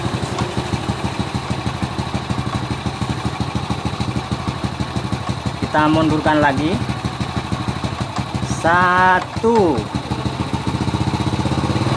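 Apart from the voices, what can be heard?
motorcycle engine revving during carburetor air screw adjustment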